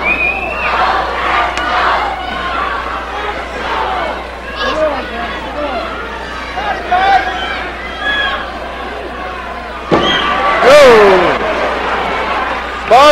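A wrestling arena crowd roars and shouts for Bret Hart, a loud sustained mass of voices with scattered individual yells, swelling near the end, while a commentator talks over it.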